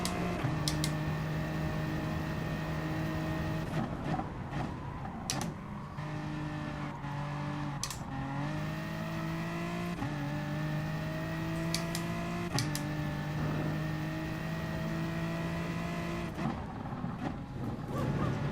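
A race car engine in Gran Turismo Sport, a German car on a German track, revs steadily throughout. Its tone rises and falls with gear changes, and short sharp clicks and blips are heard, with no voices.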